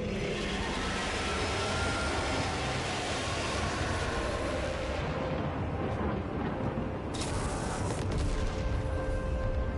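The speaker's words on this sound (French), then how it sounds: "c'était ça, en fait, l'explosion" A dense, continuous roar of blasts and rumbling from an explosion in Warhammer 40K: Space Marine 2 fills the whole stretch, loud and sustained, with a sharp crackling burst near the end.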